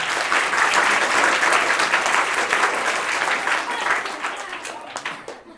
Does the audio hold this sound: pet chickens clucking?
no